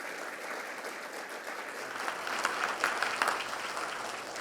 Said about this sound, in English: Frank, that was kind of a muted applause